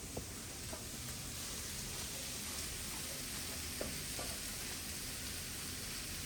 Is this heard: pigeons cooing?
no